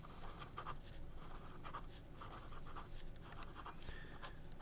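A Lotus Agni fountain pen writes fast on paper, its nib giving a soft, steady, continuous scratching with a light rhythm of strokes for several seconds, close and quiet with no voices.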